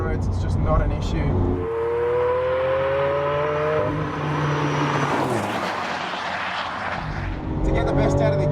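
A 2014 Lamborghini Aventador LP 700-4 V12 engine on twisty back roads: a loud, sustained droning roar that climbs in pitch through the gears, then swells to a harsh rush before settling, with someone talking over part of it.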